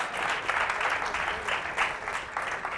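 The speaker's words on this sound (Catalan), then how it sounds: "També un aplaudiment per ells" A studio audience applauds a school team on a quiz show, a short burst of steady, moderately loud clapping with no talk over it.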